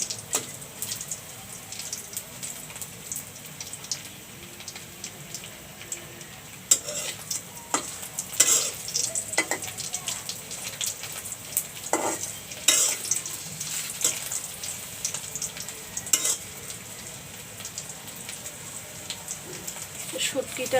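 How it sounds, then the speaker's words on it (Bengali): Dried fish tossed in a pan with green and dried chilies gives a steady crackling sizzle, broken by sharp spatula scrapes and clacks that grow busier in the second half. "এখন শুটকিগুলা কাঁচামরিচ, শুকনো মরিচ দিয়ে ভাজতেছি"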